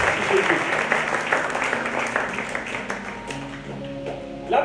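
A church congregation claps in praise of the Lord, a dense wash of hands that thins toward the end as voices and musical tones emerge underneath.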